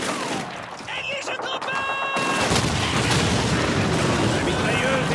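Machine gun fire and battle noise in the World War II shooter Call of Duty 2, a dense crackling barrage with booms that grows louder and constant after a quieter opening, with voices shouting amid the din.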